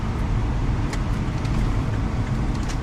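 A Chevrolet Captiva 2L TDi diesel, remapped from 150 to 190 hp, hums on the road under throttle, with a low steady drone and road rumble heard from inside the car, moderately loud.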